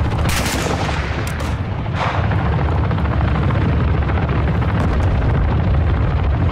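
Gunfire and explosions rumble through a Call of Duty Modern Warfare 2 battle. A loud, dense wall of low booming and crackling shots runs continuously, with a few sharper blasts standing out.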